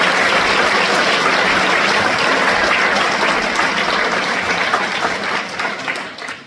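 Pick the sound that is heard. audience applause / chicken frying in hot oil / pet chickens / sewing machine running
audience applause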